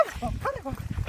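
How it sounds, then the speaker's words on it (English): A tricolour Cavalier King Charles spaniel yaps in short, high bursts at an agility session, with a handler calling out encouragement over the barking throughout. "Oh, Ellie's yapping now."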